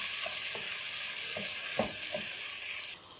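Vegetable macaroni being stirred in a pan, with a steady frying sizzle running throughout and a few soft scraping knocks from the spoon, heard close up with no talk.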